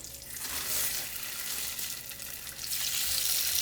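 Thin little pieces of snowy grouper cook fast in a pan, giving a continuous bright sizzle at moderate loudness, steady with slight swells, no talking.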